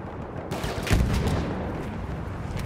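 Gunfire in a Battlefield video game, a steady barrage of shots and booming blasts layered into a dense, continuous battle din, with no talk.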